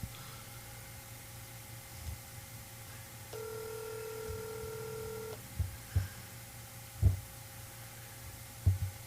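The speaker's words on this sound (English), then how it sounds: "I got the phone ringing." On an outgoing telephone call, the ringback tone sounds once in the middle as a steady two-toned ring about two seconds long. Around it come low background hum and a few dull thumps.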